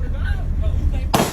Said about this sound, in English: Still played the gunshots, though.